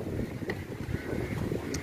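Strong wind buffets the microphone outdoors on arrival at a caravan site, a steady broadband rush with gusty swells that continues without a break.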